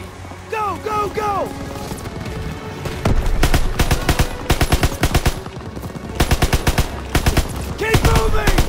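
Enemy machine gun nests firing in Call of Duty WW2's Operation Cobra, rapid evenly spaced bursts of loud, close shots in several volleys, with shouted voices and other battle sounds around them.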